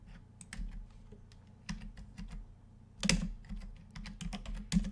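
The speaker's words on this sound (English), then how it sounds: "let me just type that up" Quick, uneven keystrokes tap on a computer keyboard close by, in short bursts with a few louder clacks, and no voice.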